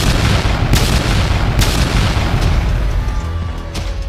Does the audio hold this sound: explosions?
yes